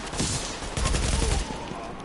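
Gunfire in The Division video game: a dense burst of rapid shots crackles loudly for a couple of seconds, the heaviest stretch in the middle, with someone talking faintly underneath.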